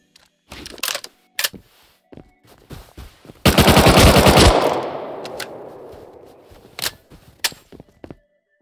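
AK rifle gunfire in the video game Rust Console: loud, close bursts and single shots crack out, then a long rapid volley with a ringing tail, followed by further scattered shots.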